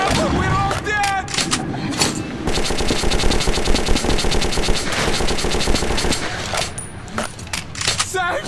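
Sustained rapid automatic gunfire with scattered single shots in the Metro 2033 video game, loud and dense through the middle, with shouting voices over the start and end.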